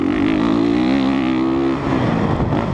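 A 2017 Honda CRF 450 dirt bike revs loud and close on the Aztec Raceway track, its engine note holding steady and then wavering and dipping briefly before pulling again.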